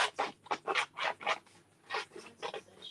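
Small craft scissors snip through paper in a quick series of crisp cuts, each a short broadband rasp, close and fairly quiet with no talking.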